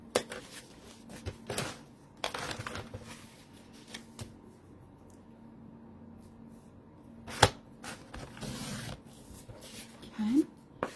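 Scissors snip paper for a spring journal in short, close, crisp cuts, with shuffling and rustling of paper in between and a brief sliding squeak near the end.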